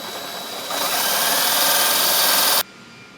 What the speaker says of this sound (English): And then just drill this one hole.